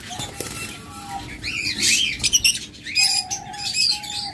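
Caged birds for sale at a market call and chirp close by in a busy mix of tweets, coos and whistled notes, with occasional wing flutters and no talking.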